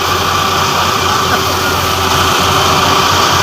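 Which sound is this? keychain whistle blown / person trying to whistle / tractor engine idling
tractor engine idling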